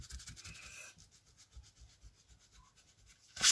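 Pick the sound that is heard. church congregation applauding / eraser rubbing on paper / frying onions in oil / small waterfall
eraser rubbing on paper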